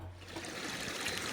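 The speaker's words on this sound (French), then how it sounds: "On franchit le petit ruisseau." A small mountain stream on a hiking trail trickles and burbles steadily, a continuous close wash of running water with no voices.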